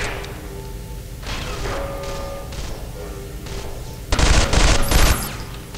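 Gunfire in the sci-fi shooter Interstellar Marines, steady bursts of automatic fire over a low game soundscape, swelling into a louder, denser volley near the end.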